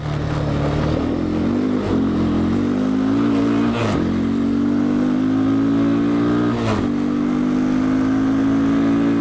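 A 200cc quad bike engine runs loud and close while riding, its note rising and falling as the throttle opens and eases, with a couple of brief gear or throttle dips along the way.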